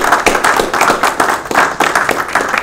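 An audience at an opening-remarks session gives a round of applause, with fairly steady, evenly pulsing clapping that stays close and moderately loud the whole time and no voices over it.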